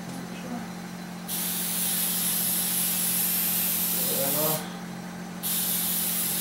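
Carburetor cleaner sprayed from an aerosol can onto the windage tray of a 1999 5.7 engine during final assembly, two long, loud hissing bursts with a short pause between, over a steady low hum.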